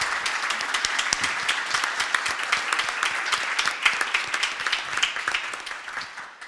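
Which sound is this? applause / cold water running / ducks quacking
applause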